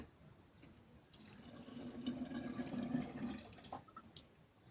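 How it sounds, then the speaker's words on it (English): Tap water pours into a plastic apple juice bottle being filled for homemade wine, a soft gurgling stream that swells and rises in pitch for about two seconds, then stops, fairly quiet and close. "Now, I put some water in."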